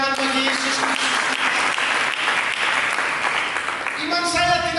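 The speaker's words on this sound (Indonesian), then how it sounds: "Berikan tepuk tangan bagi Yesus" A church congregation claps in a loud, sustained wave of applause, with organ or keyboard chords ringing at the start and again near the end.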